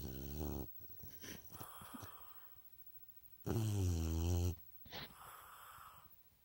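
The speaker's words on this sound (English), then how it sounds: "You snore like a grown-ass man. You're so loud, princess." A bulldog snores loudly in long, rasping, wheezy pulls, the breaths rising and falling in a slow rhythm with snorting edges, close and dominant throughout.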